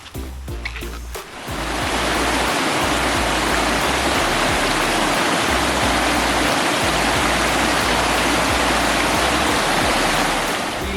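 Swapna Waterfalls near Manuguru in Telangana roars as a loud, steady rush of falling water, filling in abruptly after a brief quieter moment and continuing unbroken to the end.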